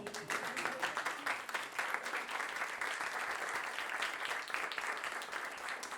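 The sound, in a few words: continuous applause from audience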